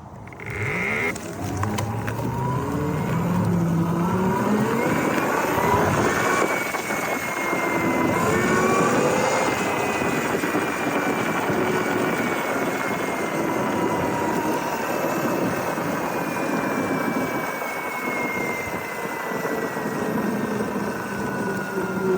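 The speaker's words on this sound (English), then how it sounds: "I believe you can hear the motor more than you can hear the actual belt" A Yozma IN10 belt-drive electric bike motor whines at full throttle, its pitch rising and sliding through repeated pulls over steady wind and road rush, loud and close, with no talking.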